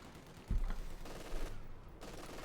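MG-42 machine gun firing in Company of Heroes 2, a few short bursts of rapid gunfire at moderate distance amid game battle noise, fairly quiet overall.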